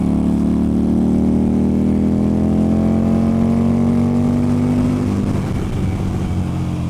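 A Harley-Davidson sport bike engine revs hard and close, its droning pitch climbing steadily for about five seconds before dropping off and settling into a rough idle.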